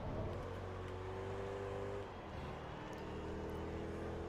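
A car engine in the racing game Forza Motorsport 2, during a Class D grand prix at Tsukuba, drones at a steady pitch, then drops and resettles to a new tone partway through. It sounds fairly close and continuous, with no speech.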